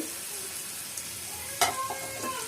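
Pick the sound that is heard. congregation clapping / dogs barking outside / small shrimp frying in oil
small shrimp frying in oil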